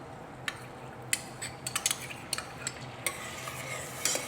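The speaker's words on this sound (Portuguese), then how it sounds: "Misturamos com a manteiga." Coconut milk being stirred into melted butter in a pan: scattered light scraping and clinking taps of a utensil over a low, steady background hiss, close and fairly quiet.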